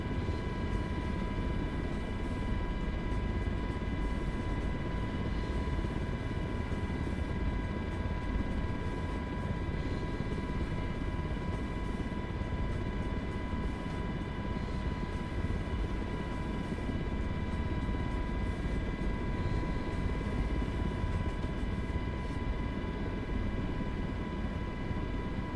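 A simulated MH-60 helicopter hovers in Microsoft Flight Simulator 2020, giving a steady, loud, unbroken rotor and turbine drone with constant whining tones throughout and no talking.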